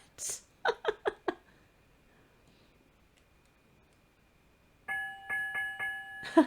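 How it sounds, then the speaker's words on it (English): Two quick pairs of ship's bell strikes ring out in the Broken Sword 2 game, a bright metallic chime repeated with short gaps, fairly close and clear over a quiet background. "Two bells and all's well."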